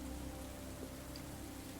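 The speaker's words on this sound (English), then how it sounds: "Raindrops splatter against the glass, and the trees sway in the wind, their leaves rustling in a symphony of nature's music." Storm rain splatters against window glass in a steady, dense patter with no pauses, fairly loud and with no voices.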